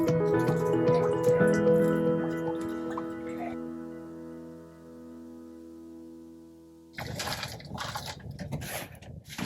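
Water drips and trickles onto potting soil in a cell tray prepared for Lisianthus seedlings in a greenhouse, heard mostly in the last few seconds as a soft wet spatter after a stretch of steady background music.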